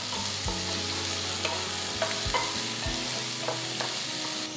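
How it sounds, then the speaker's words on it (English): Mustard and fennel seeds fry with finely chopped onion in hot oil, giving a steady, close hiss of sizzling with scattered small pops and crackles throughout. "As the mustard seed starts splattering, add half teaspoon of fennel seeds"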